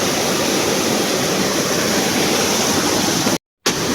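Loud, steady roar of rushing water pouring down the Hathani Mata waterfall in hilly country, close and continuous with no voices, broken only by a brief dropout of silence near the end.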